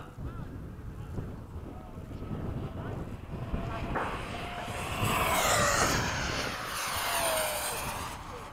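A military F-16 chases an F/A-18 past in a flyby, a swelling jet roar that builds from a distant rumble to a loud rushing peak, with wind buffeting the microphone and faint voices nearby.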